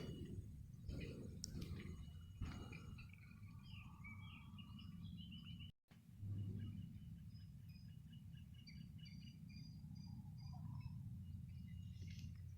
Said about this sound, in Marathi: फक्त पक्ष्यांचा आवाज येतो आहे मध्ये मध्ये